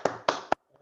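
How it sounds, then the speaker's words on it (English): A few sharp hand claps, three in quick succession, close and fairly loud, given as a round of applause during an online wildlife webinar, with silence after. "Round of applause."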